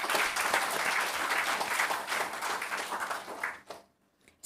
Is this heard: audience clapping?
yes